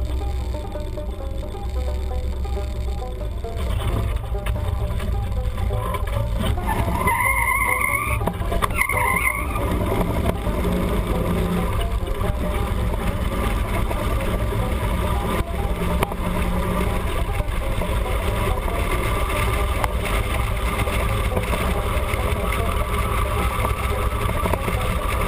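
A rat rod car drives down the road, its engine running steadily and loud throughout with rumbling wind and road noise, and no voices.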